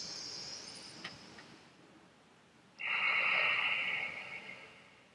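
Slow, deep breaths taken as a yogic breathing exercise: a soft airy exhale fades out, a short pause follows, then a stronger rushing inhale swells and tapers off, close and clear with no talking.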